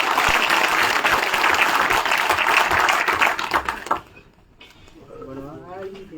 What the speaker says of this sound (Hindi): तालियों से इस्तकबाल करेंगे।